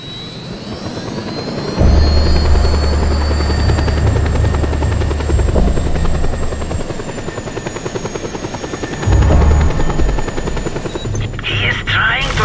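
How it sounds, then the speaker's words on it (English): A helicopter flies in Just Cause 2 with a steady, loud rotor thump and engine drone that swells at moments, close up and continuous, with a speaking voice heard over it. "He is trying to escape in a helicopter!"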